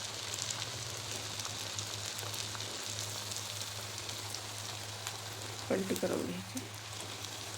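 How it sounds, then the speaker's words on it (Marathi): Puri dough frying in hot oil for a fasting-day meal, with a steady crackling sizzle throughout and a brief louder bubbling burst near the end, while a person talks quietly over it. "तर आता तेल छान तापलेलं आहे, आपल्याला पुरी सोडून घ्यायची."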